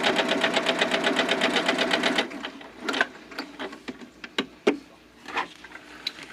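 Sewing machine running a top stitch on fabric: a fast, even mechanical chatter for about two seconds, then stopping, followed by scattered clicks and clunks of the machine's mechanism, loud and close.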